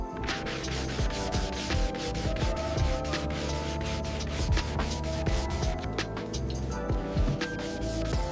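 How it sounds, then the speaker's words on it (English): A part from a 1999 Suzuki Hayabusa motorcycle is sanded by hand during a restoration. Close, continuous rasping strokes repeat in a steady back-and-forth rhythm with no talking. "You can't rush the sanding, especially on a classic like the Hayabusa."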